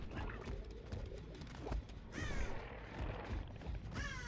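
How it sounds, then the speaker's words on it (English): A crow caws somewhere off to the right in Dead by Daylight, a few harsh calls rising over a busy game soundscape with thumps and crashes. "We hear a crow over to my right"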